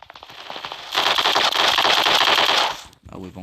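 Rapid automatic gunfire in the online shooter Block Strike, a dense burst of loud shots lasting a couple of seconds, with a voice briefly heard before and after.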